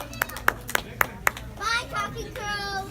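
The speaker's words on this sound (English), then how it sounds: "Everybody clap for my friend Boxford" A small birthday-party audience gives five scattered, loose claps for a ventriloquist's talking crow puppet, followed by children's voices chattering nearby.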